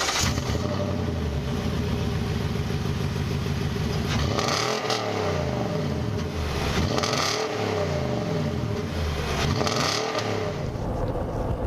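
A Nissan Titan pickup truck with 27,000 miles cruises at about 45 mph, giving a steady low engine and road hum that swells gently in a few slow waves.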